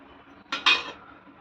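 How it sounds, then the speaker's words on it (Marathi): A metal lid goes onto a pot of cauliflower, peas and potato curry, a single brief clatter and ring up close. "आता झाकण मारून ठेवते त्याला"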